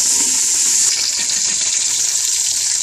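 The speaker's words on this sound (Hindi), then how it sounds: "घी डालेंगे और उसके अंदर चिकन डालेंगे और उसे हल्का सा फ्राई करेंगे" Chicken pieces frying in ghee, a continuous loud, close sizzling hiss that holds steady with no pauses.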